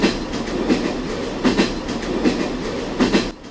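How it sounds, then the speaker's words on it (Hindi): Trains run on the railway lines beside the Vessel in New York, a steady rumble with rhythmic clickety-clack wheel beats repeating about every three-quarters of a second, heard at moderate distance. "सड़क के इस पार फैली हुई रेलवे की लाइनें, जिन पर रेलगाड़ियाँ शहर की धड़कन बनकर दौड़ती हैं।"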